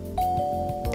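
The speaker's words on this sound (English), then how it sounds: "That was the doorbell." Doorbell in the Amnesia Memories video game, a clear electronic two-tone ding-dong chime ringing once and sustaining under faint background music, no talking.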